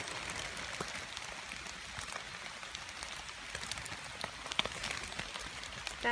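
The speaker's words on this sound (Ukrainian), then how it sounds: "Сподіваюсь, мій дощовик буде не дуже вам шобуршити" Soft, continuous crinkly rustling of a raincoat while mushroom picking in Truskavets, fairly faint and steady, with scattered light crackles and no talking.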